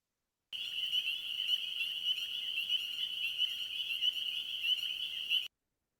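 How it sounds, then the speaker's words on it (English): Spring peeper frogs call at night in a dense, unbroken chorus of high, piercing peeps, steady and fairly faint from a distance, with no voices. "Spring peepers. You can clearly see the sound of the peepers here."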